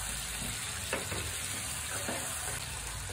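Spiced chicken fries in a pan with a constant loud sizzle and a couple of soft stirring scrapes.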